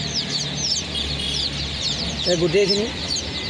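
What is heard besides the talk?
local chicken chicks and ducklings chirping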